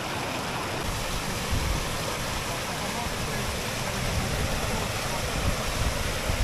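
Clear mountain stream water in Romania's Retezat mountains pours past nearby in a loud, unbroken rush, with slight surges in the churning flow.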